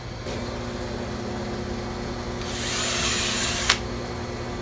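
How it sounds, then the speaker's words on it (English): A steady low motor hum runs throughout; a higher whining power drill joins for about a second and stops with a small click, drilling into a creosote-treated wooden fence post while installing a privacy fence panel. "Gotta drill the hole first."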